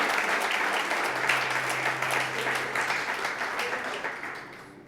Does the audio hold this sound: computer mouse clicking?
no